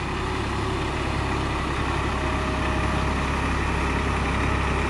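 A Massey Ferguson 246 4WD tractor with a rotavator, in first gear medium at about 1550 RPM, drones with a dense, steady low rumble that stays constant throughout.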